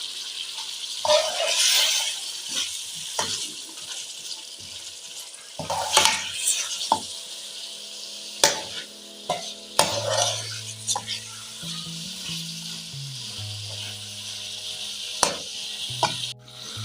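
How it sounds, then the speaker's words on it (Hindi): Chicken feet coated in masala are stir-fried in a pan with splashes of water, giving intermittent sizzling bursts and scraping stirs of a utensil. Low steady tones run underneath in the later part. "आपने थोड़ा थोड़ा पानी ऐड करके इनको भूनते जाना है"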